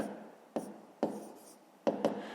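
A pen or marker taps and scratches on a board or paper in a few short strokes with brief gaps, quiet and close.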